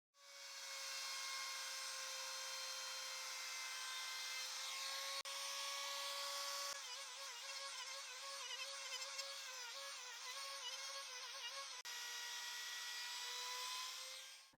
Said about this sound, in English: I'll bevel the edges using this 32 millimeter straight molding bit